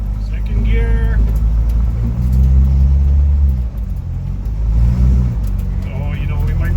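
A 1988 Jeep YJ engine runs steadily while driving in second gear, a loud continuous low rumble that rises and falls slightly with throttle, with someone talking intermittently over it.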